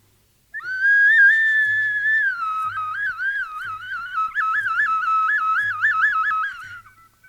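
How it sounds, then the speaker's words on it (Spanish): A clay eagle-shaped whistle, prehispanic style, blown alone, a bright sustained tone that first holds steady, then warbles rapidly up and down in a trilling pattern. "este es un silbatito en forma de águila, que está hecho de barro"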